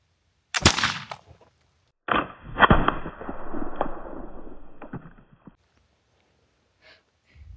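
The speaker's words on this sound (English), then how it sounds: "let's shoot that can first and see what it does to it" A flintlock muzzleloader pea shooter is fired at a can outdoors. A sharp crack is followed about a second and a half later by a louder, booming shot that rolls away into echo, then quiet.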